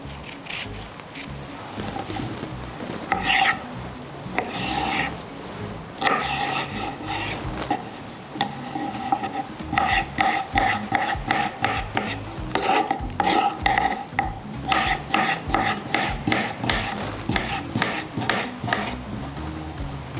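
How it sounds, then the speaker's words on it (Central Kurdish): A knife chops cucumber on a cutting board in a steady run of crisp, close taps with short pauses between bursts, alone without talk. "ئێستا ئەوجا دەستەکەم بە وردکردنی خیارەکەی"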